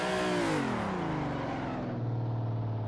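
A race car engine in Assetto Corsa drops in pitch as the throttle is partly released, a steady harmonic drone sliding down and then holding a lower, even tone.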